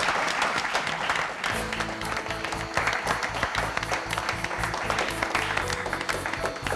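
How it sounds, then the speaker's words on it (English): Steady studio audience applause at a science quiz show fills the whole stretch, dense and continuous, with music playing underneath. "Let's give a big round of applause to them."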